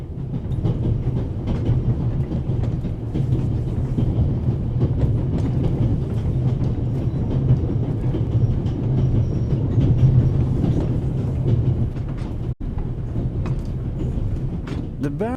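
Steady rumble and rattling of a train running on rails in the video game The Raven, a continuous dense clatter with faint scattered clicks and no clear speech.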